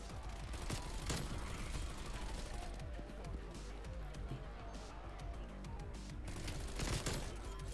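Bull Frog submachine gun in Call of Duty Cold War firing rapid bursts of dense, sharp shots almost continuously, with short pauses and a voice talking over the gunfire.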